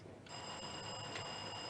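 A quiz contest buzzer sounds during a school science and maths quiz round, switching on suddenly as a steady electronic tone with bright harmonics and holding without a break to the end.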